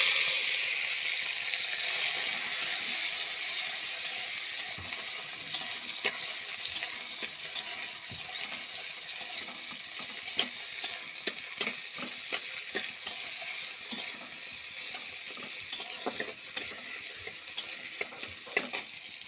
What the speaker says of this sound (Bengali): এবারে ডালটা সম্বুরে দেবো